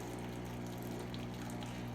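Breville/Sage Barista Pro espresso machine dispensing hot water from its hot water outlet, a steady low pump hum with a continuous watery hiss and gush, moderately quiet and unbroken throughout, no voices.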